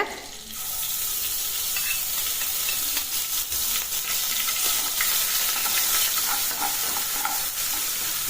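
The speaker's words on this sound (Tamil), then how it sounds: "இதே நெய்யில் 1 ஸ்பூன் இஞ்சி பூண்டு பேஸ்ட்டை சேர்த்துக்கிறேங்க." Steady crackling sizzle of ginger garlic paste frying in hot ghee, loud and close, with occasional stirring scrapes and pops throughout.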